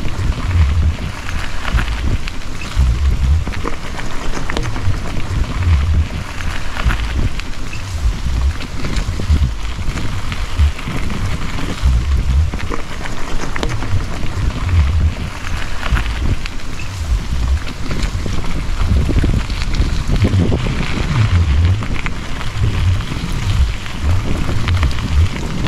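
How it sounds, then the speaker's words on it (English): Heavy rain pours down in a monsoon rainforest near Darwin, Australia, during the wet season, a dense constant hiss with low rumbling bumps underneath, unbroken for the whole stretch. "It started raining heavily, and now I'm here in the middle of nowhere."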